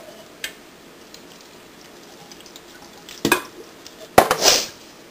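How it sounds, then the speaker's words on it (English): Cornbread dressing mixture stirred in a bowl, heard as a few brief scraping, clattering strokes near the end after near silence, with a light tap early on. "So, and just stir that up together."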